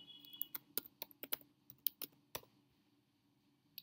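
Typing on a computer keyboard, a quiet run of irregular, close key clicks with uneven gaps between taps, fading out toward the end over a faint steady background hum.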